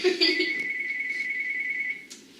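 A phone rings with a single sustained electronic tone lasting about two seconds, fairly clear and close, with faint background noise behind it.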